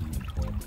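Water poured over a freshly dug pottery find on the Thames foreshore in London, a short close splash and trickle running against steady low outdoor rumble.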